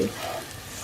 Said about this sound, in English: Throw in the garlic. Saute, saute,